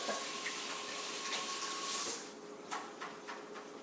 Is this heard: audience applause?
no